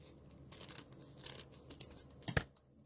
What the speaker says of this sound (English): my ribbon and I'm going to cut it into little strips